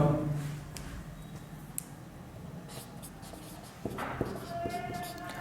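Chalk or marker scratching across a board in a classroom, with irregular squeaky strokes and taps over steady room noise while someone talks throughout.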